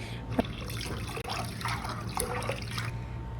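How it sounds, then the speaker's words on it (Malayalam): Green peas soaked overnight are washed in water, with liquid trickling and sloshing close by, a steady run of splashy pours broken by one short pause. "ഞാൻ തലേ ദിവസം വെള്ളത്തിലിട്ട് വെച്ചിട്ടുള്ള ഗ്രീൻ പീസ് ഇതാ കഴുകിയെടുക്കുന്നുണ്ട്"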